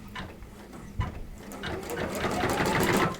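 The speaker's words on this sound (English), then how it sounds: "I'm going to say lock, start, and it's going to stitch out my placement stitch." A Babylock embroidery sewing machine stitches an appliqué placement line on a shirt, a steady fast mechanical whir and rattle building slightly louder, with faint talking underneath.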